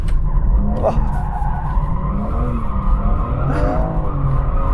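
A BMW M4 drifting on full lock, its tyres squealing and skidding continuously and loudly under the engine's drone, with pitch wavering as the slide changes.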